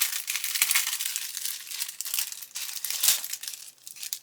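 Resealable plastic bags holding model kit sprues being handled, a close, busy crinkling and rustling of thin plastic that rises and falls in quick bursts with no talking.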